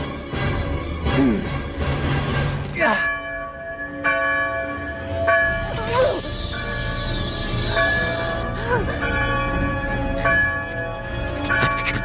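A bell rings repeatedly in an animated film, ringing out with a bright, resonant tone over a busy soundtrack with other effects and music, steady and loud across the stretch.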